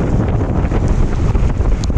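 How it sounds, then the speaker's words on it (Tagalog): Heavy rain pours down during Typhoon Ulysses beside a flooded MacArthur Highway, a loud, steady, dense hiss with wind buffeting throughout and no voices. "Tuloy pa din yung ulan."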